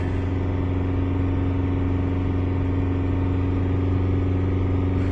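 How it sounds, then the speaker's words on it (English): A car engine is held at a raised speed of around 2,000 to 3,000 RPM during a battery test with a handheld tester. It gives a steady, loud hum that keeps a constant pitch throughout, with no voices. "Keep the engine speed between 2 and 3000 RPM. So just raise the engine speed around about there."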